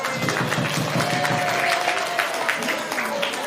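Classroom applause for a student, quick close clapping from a small group of students with voices mixed in over it.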